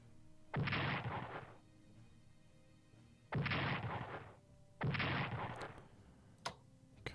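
Bombing raid on Brussels in the Strategic Command strategy game: three loud, broad explosive bursts, each about a second long, separated by quiet gaps, followed by a couple of sharp clicks near the end.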